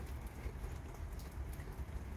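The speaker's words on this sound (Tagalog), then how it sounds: "patak ng ulan" Raindrops fall steadily on a winter day, a soft continuous patter with scattered nearer drops, evenly spread and moderately quiet with no voices.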